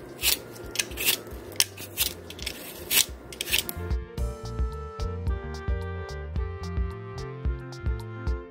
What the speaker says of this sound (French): Là, j'ai terminé d'éplucher mes pommes.